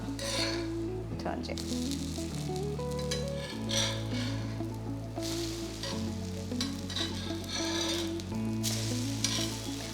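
French toast frying in a pan, a steady close sizzle throughout with faint pan scrapes, while background music plays underneath.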